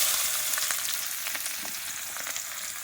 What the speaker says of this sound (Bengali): তেলের ওপরে আমি সামান্য পরিমাণ হলুদ গুঁড়ো দিয়ে দেবো।